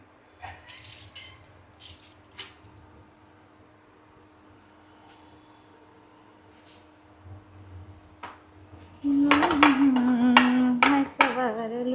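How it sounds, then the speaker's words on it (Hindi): Dishes being washed by hand with a scrub sponge at a kitchen sink in a Bangalore home: scattered faint clinks and drips, then loud running water from the tap with utensils clattering near the end. "I think red is better for normal बर्तन धोना, नॉर्मल बर्तन।"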